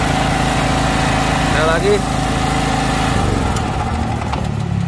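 A 2800-watt gasoline generator's engine cranks and runs with a loud, steady low drone and rattle while people talk over it nearby.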